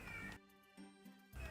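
A cat lets out a single drawn-out meow, fairly faint and heard on its own against quiet background noise.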